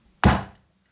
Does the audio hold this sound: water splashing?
no